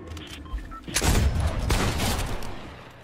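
Rapid bursts of gunfire in the video game Fortnite, a dense loud volley starting about a second in and rattling on steadily to the end.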